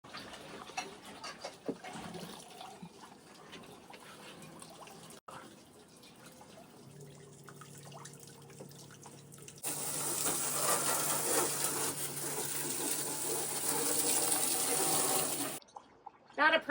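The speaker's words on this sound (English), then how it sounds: "you can see the very back of the dinghy where the water's draining" Water draining from the lowered stern of a dinghy on a boat, a steady splashing rush that starts midway and runs loud and continuous for several seconds before cutting off, after a quieter stretch of faint trickling and background noise.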